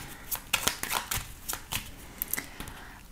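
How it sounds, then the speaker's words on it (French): Lenormand cards shuffled for a 13-card reading, a quick series of close, crisp riffling snaps and soft slaps in an uneven rhythm, heard alone without talk. "on va refaire un tirage en 13 cartes avec le Lenormand"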